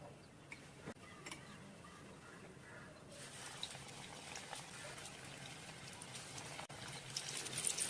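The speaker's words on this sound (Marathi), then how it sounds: "तेल गरम झालं आहे. पकोडे सोडून घेऊ." Goat fat pakoras are dropped into hot oil and fry. After a few faint taps, a soft bubbling sizzle begins and grows steadily louder and denser toward the end.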